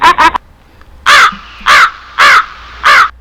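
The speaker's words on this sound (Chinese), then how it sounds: "乌鸦飞过" A crow cawing sound effect fired from the Kase FX5 live-stream sound effects unit: two quick caws, then four loud, evenly spaced harsh caws, close and clear with no talking.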